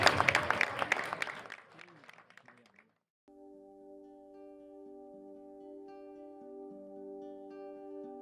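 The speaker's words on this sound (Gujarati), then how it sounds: "ખૂબ તાળીઓના ગડગડાટ સાથે આપણે આ લોકાર્પણને વધાવી લઈએ" An audience applauds at the inauguration of the renovated Gandhinagar town hall, a loud burst of clapping that thins out over about three seconds, followed by a short silence and then soft, sustained musical tones.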